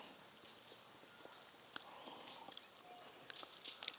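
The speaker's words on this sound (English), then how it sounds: "Overcast sky and raining." Soft, steady rain falls outdoors under an overcast sky in Zambia, with scattered light drips and taps landing close by and no voices.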